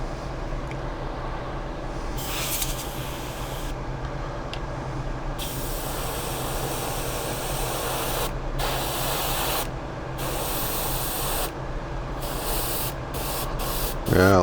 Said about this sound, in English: I'm spraying a DuPont Fleet color called Just Silver.